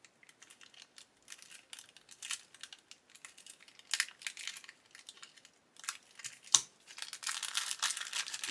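A plastic bag holding 3D printed parts for a DaLiGeJian 1/350 scale model kit is cut open, with soft crinkling and snipping in bursts and one sharper snap near the end, close and quiet.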